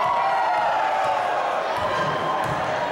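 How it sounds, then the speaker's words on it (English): A crowd cheers at a high school memorial basketball game between a faculty team and students, a steady roar in a gym with a few sharp knocks and ball bounces poking through. "So we hear the crowd getting into it."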